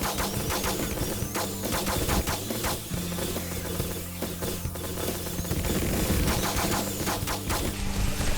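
Dense, sustained gunfire from a 7 Days to Die zombie base defence, rapid overlapping shots and crashes continuing loud and close throughout with music-like tones underneath.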